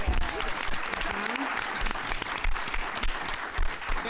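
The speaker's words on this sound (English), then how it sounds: "Round of applause," Audience applause at a live small-business social media session, a sustained burst of clapping from a group, fairly loud and continuous, with voices talking and calling out over it.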